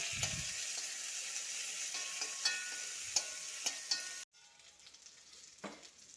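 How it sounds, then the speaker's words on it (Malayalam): Onion, chili and crushed ginger and garlic fry in a pan for a curry, giving a steady close sizzle with scattered stirring clicks; the sizzle cuts off partway through, leaving a quieter hiss and one more scrape. "ഉള്ളി മുളക് ഇട്ട് കൊടുക്കാം എന്നിട്ട് അതിലേക്ക് ഇഞ്ചിയും വെളുത്തുള്ളിയും പേസ്റ്റ് ആക്കിയത് പേസ്റ്റ് ആക്കിയിട്ടില്ല ചതച്ചതിട്ട് കൊടുക്കാം"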